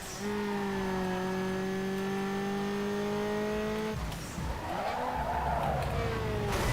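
Car drifting in the Need for Speed racing game, a long steady engine drone under loud tire squeal, then a brief drop and a renewed rev with skidding screech.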